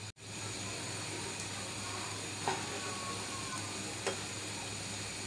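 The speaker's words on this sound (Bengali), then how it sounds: "এই তো টিকিয়াগুলো ভাজা হয়ে গেছে।" Fish egg tikiya patties, dipped in egg white, fry over a medium-high flame with a steady, close sizzle and hiss, broken by a couple of faint clicks.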